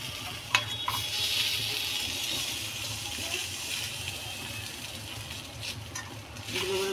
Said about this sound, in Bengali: এপাশ ওপাশ দুপাশে বেশ সুন্দর ভালো মতো ভাজাটা হবে